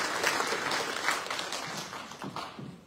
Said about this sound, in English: Give Bill a round of applause